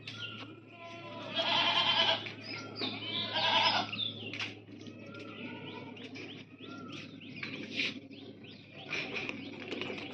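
Goats of roughly 38 to 50 kg on a goat farm bleat repeatedly in overlapping calls, some near and some farther off, over a steady low hum with bird chirps mixed in.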